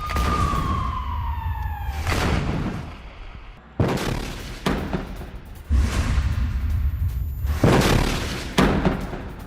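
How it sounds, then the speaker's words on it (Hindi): Alert sirens wail across Tel Aviv during a rocket attack, a falling siren tone at the start, then loud booms and blasts that come back again and again, close and heavy. "पूरे शहर में सुनाई दिए अलर्ट सायरन।"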